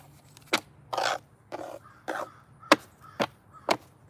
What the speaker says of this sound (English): Something significant about these birds. They going off.